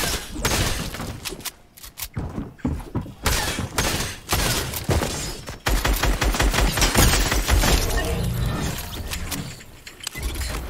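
Dense, loud Fortnite gunfire in duos play: rapid automatic bursts and repeated shots crowd the whole stretch, with mechanical clicks and thumps between volleys and no one speaking.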